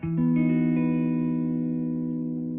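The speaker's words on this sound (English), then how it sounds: "And I'm strumming just the 5 top strings." A single strummed suspended chord on a baritone guitar (Alpine B110), played on the top five strings, rings out with low, sustained tones, held steadily and slowly decaying, with no voices.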